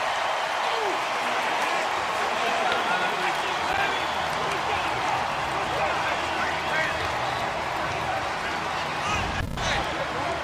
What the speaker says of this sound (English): this crowd comes to life